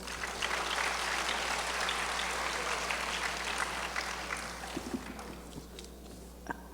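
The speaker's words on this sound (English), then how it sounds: "please give them a round of applause" A hall audience applauds the Bala Vihar children at the CMLA Sevanjali 2025 presentation of Shiva Parvati Vivaha, a dense wash of clapping over a steady low hum that gradually thins out toward the end.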